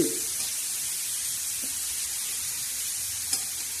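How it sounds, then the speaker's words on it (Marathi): Onion frying for an okra curry with green chillies and tomatoes in a pan, giving a steady close sizzle with occasional faint stirring scrapes, no voices. "हे बघा असं ह्या पद्धतीने आता चांगला फ्राय होतोय आपला हे कांदा"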